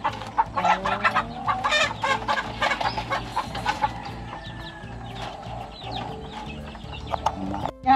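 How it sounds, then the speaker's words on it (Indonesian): Chickens given as a gift cluck and squawk busily up close, a dense stretch of repeated calls with occasional rustling and faint background voices. "Uncle dan aunty bagi kita ayam. Bawa balik."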